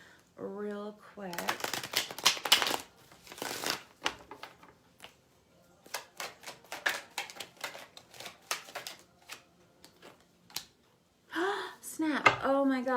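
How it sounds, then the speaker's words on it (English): A traditional Rider-Waite tarot deck being shuffled by hand: a dense run of crisp card-riffling bursts, close and fairly loud, with a voice speaking just before and again right after. "I'm going to shuffle this traditional Rider-Waite and clarify real quick."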